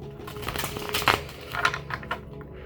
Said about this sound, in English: I feel like we need a really big shuffle